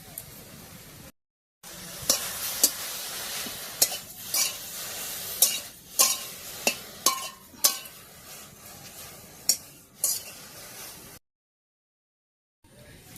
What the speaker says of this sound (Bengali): পাতাগুলো আমি শুকনা খোলায় ভালো করে ভাজা নিই